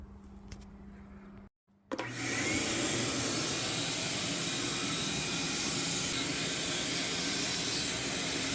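After a brief pause, a vacuum cleaner starts up inside a Honda Integra GS-R DC2, then drones with a loud, steady whine close by for the rest of the time.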